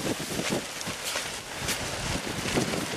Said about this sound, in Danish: Det vil sige, at der er en masse vindstøj